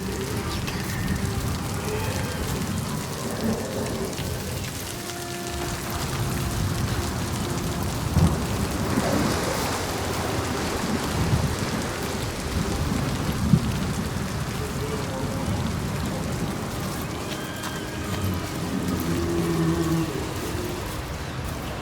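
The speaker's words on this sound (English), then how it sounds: "He brings the storms with him." Heavy rain and rolling thunder in the video game Senua's Saga: Hellblade 2, a steady, loud downpour wash with several deep thunder rumbles and cracks through the storm, with no voices.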